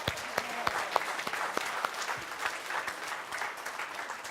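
An audience gives a round of applause at a talk on living an authentic life, a dense, even patter of many hands clapping with a few sharp claps standing out near the start.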